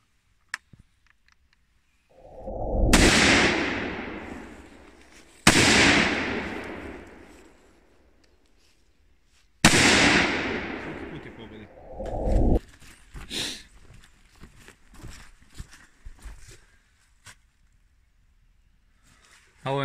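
A Pietta Chronos rifle in .308 Win fires on a 100-meter range: three loud, sharp reports spaced a few seconds apart, each with a long echoing tail, followed by softer handling noises.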